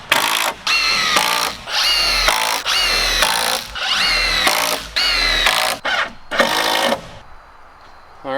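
A power drill drives fasteners into cabin roof beams in several loud, close whirring bursts of about a second each, separated by short pauses, before the drill falls silent.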